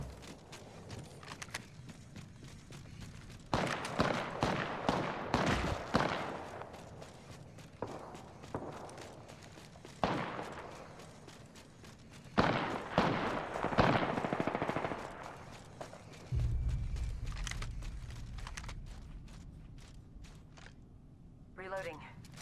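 Bursts of automatic gunfire from Apex Legends weapons come in several loud clusters, rapid repeated shots with pauses between volleys, over game ambience and low rumbling, with a voice speaking.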